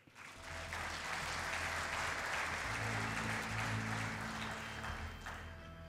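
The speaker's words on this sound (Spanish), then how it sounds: "Así que un aplauso para Enrique, por favor" Steady applause from a crowd welcoming a speaker at an agriculture conference, sustained for several seconds at even intensity, with a low hum underneath, fading slightly at the end.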